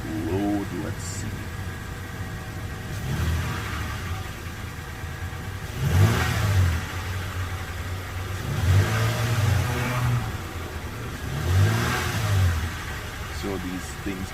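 Car engine idling with three distinct revs where the RPM climbs and falls, each swell rising above a steady low hum, recorded nearby during an OBD scanner check.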